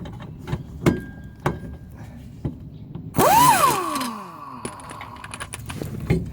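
A pneumatic impact wrench spins off a leaf spring bolt on a 1970-1981 Camaro or Firebird, one loud hammering burst of about a second with a falling whine, set among scattered clicks and clanks of tools in a garage.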